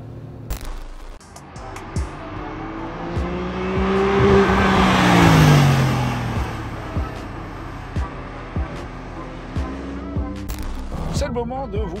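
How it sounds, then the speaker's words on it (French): A Porsche 911 Sport Classic engine revving up to 9000 rpm, rising to a loud high-pitched howl in the middle before falling away, with a person talking before and after. "Le moteur hurle jusqu'à 9000 tours minute."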